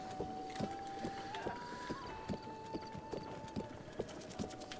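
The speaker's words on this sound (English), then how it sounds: "I just like the casual trot of the horse." Steady trotting hoofbeats of a horse in Breath of the Wild, regular clip-clop thuds close and even over a sustained musical drone and light wind-like ambience.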